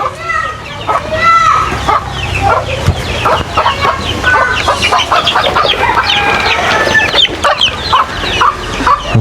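Chickens cluck and squawk repeatedly at a rural home, close and busy, with people talking over them throughout.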